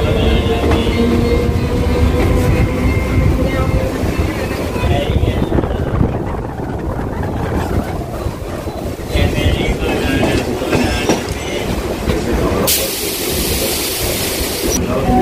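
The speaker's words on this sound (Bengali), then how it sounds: "এই বালিগঞ্জ রেলওয়ে স্টেশন থেকে ছেড়ে দিয়েছে তার গন্তব্য প্রিন্সেপ ঘাটের দিকে" A local train pulls out of Ballygunge station heading toward Princep Ghat, its loud rolling rumble and rattling wagons heard close up from on board, with heavy wind buffeting the microphone throughout.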